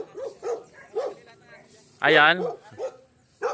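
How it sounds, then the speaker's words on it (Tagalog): Dogs bark at visitors arriving on a Filipino farm raising fighting roosters, several short yips and barks followed by one loud bark, close by, while someone speaks between them. "Ayan, kinakaulan na tayo ng aso."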